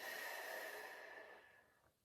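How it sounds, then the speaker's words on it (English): A person draws a long, steady breath in through the nose, a soft close airy hiss that fades out near the end, with no talking. "Breathing in through our nose"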